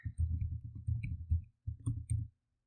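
Fingers typing a password on a keyboard produce quick, close clicking keystrokes in two short bursts separated by a brief pause, with no voices.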